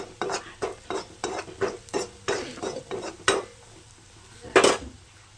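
Crushed green chili and garlic with tamarind being mixed in a pan, a regular run of spatula scrapes and clinks against the metal, then a pause and one louder scrape, close and clear with no talking.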